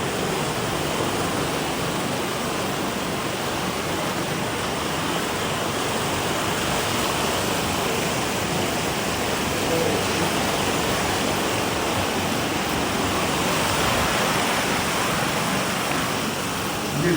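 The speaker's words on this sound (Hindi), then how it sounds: "पानी का शोर सुनिए, मेरी आवाज ही नहीं आ रही होगी" Loud, steady rush of the Rishiganga river on the Himalayan trek from Badrinath to Charan Paduka, a dense broadband roar that continues without a break for the whole stretch, with no clear voice over it.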